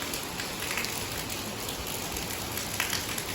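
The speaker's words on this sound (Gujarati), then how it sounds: "મુસળધાર વરસાદ વરસી રહ્યો છે." Heavy monsoon downpour drums steadily on surfaces, a constant, even hiss of rain with scattered drip accents, fairly distant and moderately quiet with no voices.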